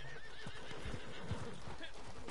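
Horse neighing and whinnying in a video game, with hoof clip-clops and other game sounds, all fairly quiet and continuous under faint background talk.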